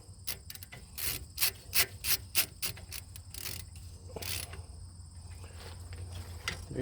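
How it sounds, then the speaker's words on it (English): A ratchet wrench tightens the wheel hub bolts on a first-generation Nissan Titan or Armada, making a quick series of quiet, rasping strokes that fade into softer, irregular scraping, close by with no talk. "I'll get my ratchet wrench, and the torque spec on those are 32 foot-pounds"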